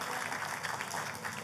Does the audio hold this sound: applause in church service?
yes